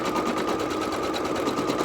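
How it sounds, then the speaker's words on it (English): A Brother Innov'is 1600E embroidery sewing machine stitches an appliqué outline of a cat, giving a steady, continuous mechanical whir with a fast, even stitching rhythm. "So it's doing an outline stitch of the cat."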